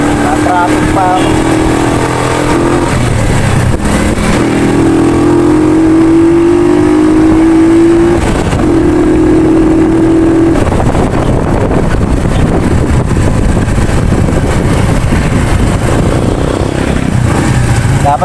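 Road traffic of cars and motorcycles forms a dense, nearby engine drone with a few rising revs, buffeted by wind noise while people talk over it.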